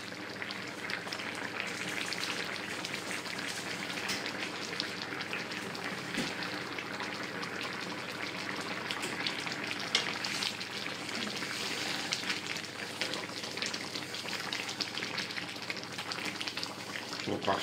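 Calamari à la provençale simmering gently in a pan, giving a steady, close, even sizzle and soft bubbling that runs without pause for the whole stretch.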